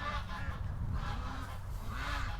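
Big domestic geese or ducks honk faintly and a little distant, several overlapping calls against a steady rumbling outdoor background.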